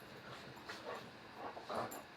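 Dogs fighting somewhere in the distance, faint whimpers, yips and short barks rising in a few bursts over a quiet background, with no voices.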